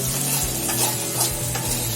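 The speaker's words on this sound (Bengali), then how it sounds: "এবার চিকেনটাকে একটু লাল লাল করে ফ্রাই করে নেব" Chicken pieces fry and sizzle steadily in a pan for egg chicken chow mein, with repeated stirring scrapes over a continuous loud crackle and no voices.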